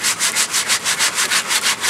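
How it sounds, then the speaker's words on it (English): An 80 grit sanding pad pressed against a turned wooden jar spinning on a lathe gives a loud, close, rhythmic rasping, pulsing about six times per second with no voices. "Now, you can just take something like an 80 grit pad"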